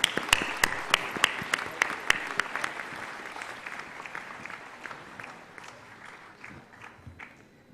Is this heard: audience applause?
yes